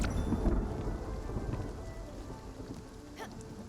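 Video game thunderstorm with steady rain pattering on surfaces and low rumbling thunder, one sharper crack near the end, moderately quiet and without voices.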